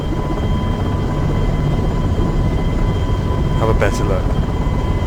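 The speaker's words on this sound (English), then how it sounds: "We're in the helicopter" A steady whirring drone of a simulated helicopter in the FSX/P3D flight simulator at Milan Malpensa airport runs continuously and loud, with someone talking briefly over it.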